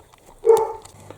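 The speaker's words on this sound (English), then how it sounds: "from the sound of the dogs, I'm going to go answer the door" A single short dog bark, loud and fairly close, comes from indoors as someone arrives at the door, with quiet room sound before and after.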